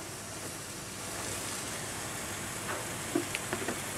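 Ridged luffa hits hot oil and gives a soft, even sizzle. It is fairly faint and stays steady, with a few brief clatters of stirring near the end.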